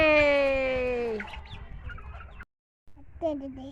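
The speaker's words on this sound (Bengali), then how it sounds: "আমার হাঁসগুলোও চলে আসছে" Ducks and other poultry crowd in to be fed, giving close, loud clucking calls that fade into scattered softer clucks after a brief pause.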